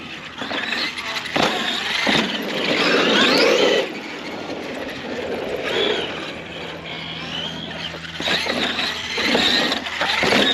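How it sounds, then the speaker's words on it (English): A Traxxas X-Maxx RC truck on new tires squeals through several sharp, rising tire screeches with bursts of motor noise between them, fairly close. "You can hear the tire screeching."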